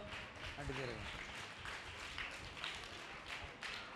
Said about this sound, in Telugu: కొట్టాలి చప్పట్లు